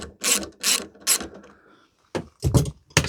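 A bolt is wound out of a Ford Mondeo Mk3 boot latch with a ratchet, giving several close, clicking bursts of pawl ratcheting separated by short pauses.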